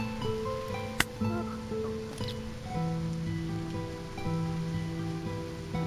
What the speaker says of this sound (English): It's cool that it's raining here.